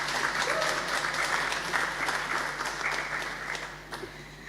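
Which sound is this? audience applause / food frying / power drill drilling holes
audience applause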